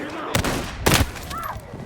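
Heavy gunfire in the Battlefield 6 campaign mission The Rock, with two sharp loud bursts close together followed by quieter battle noise.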